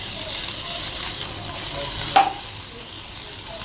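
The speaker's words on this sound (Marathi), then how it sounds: "आता आपण याच्यामध्ये एक ग्लास पाणी घालून घेणार आहोत।" Frying onion masala for a farsan curry, a soft continuous sizzle with a brief clink partway through as a glass of water goes in, no voices.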